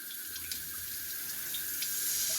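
A stainless steel bidet attachment on a toilet sprays water at its highest setting, a steady forceful hiss that is close and continuous, with no voices over it.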